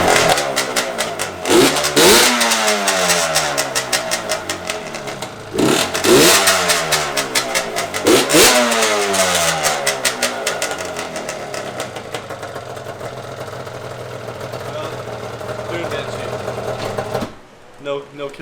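A Yamaha Banshee ATV engine, freshly refuelled, starting and revving in a garage: loud, close two-stroke blats that rise and fall in repeated bursts, then settle into a fast buzzing idle before cutting off.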